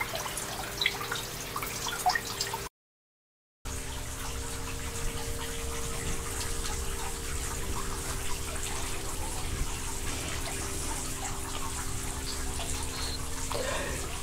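Water rushes steadily outdoors in a garden, a constant, fairly faint hiss and gurgle that runs unbroken except for a brief gap of silence.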